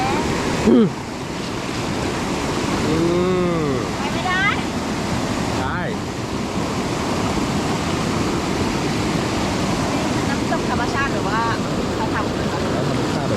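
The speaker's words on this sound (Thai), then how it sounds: "เดี๋ยวพามาดูลำธารนะครับ" Steady rushing of a flowing forest stream at a campsite close by, continuous and fairly loud, with people talking and birds chirping faintly over it.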